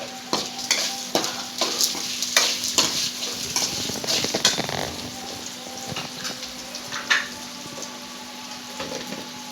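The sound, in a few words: okra being stir-fried in oil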